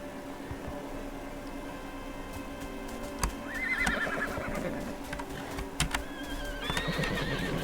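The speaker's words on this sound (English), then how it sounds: "Two horses." Two horse whinnies ring out over a steady low hum, joined by scattered hoof clicks and sharp tapping sounds, somewhat synthetic in tone.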